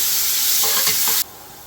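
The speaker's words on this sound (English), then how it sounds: "we're going to cook those onions down until they're starting to brown" Onions with salt frying in a pot give a bright, close sizzle, with a few soft stirring scrapes before the sound drops off sharply near the end.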